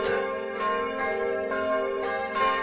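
Church bells ring loudly and steadily at Christmas, a fresh stroke about every half second, their rich tones overlapping and sustaining without pause.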